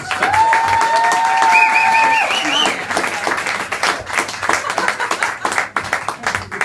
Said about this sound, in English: Give a big round of applause for my good friend Ash Fisher, everybody.